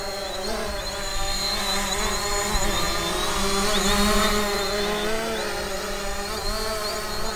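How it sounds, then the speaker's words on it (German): A Hubsan Zino drone lifts off and flies in light wind, its rotors giving a steady, buzzing whine that swells slightly midway and holds for several seconds without any talk. "und dann steigt das Dröhnchen schon in die Luft"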